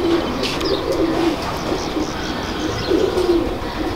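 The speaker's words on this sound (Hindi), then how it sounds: "कौन से कबूतर को शौक करवा रहे हैं?" Pigeons coo softly in repeated low, throaty phrases, close and continuous over a busy background, with occasional faint chirps.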